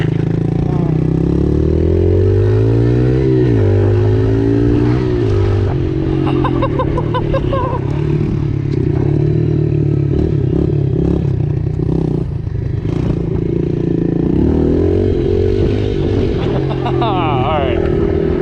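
A pit bike engine revving hard through the gears on a top speed run, loud and continuous with rising and falling pitch as it accelerates, a rider's voice talking over it.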